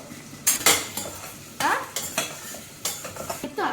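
Snack ingredients stirred in a pan with a metal spoon, a series of sharp close scrapes and clinks against the pan over a soft background sizzle.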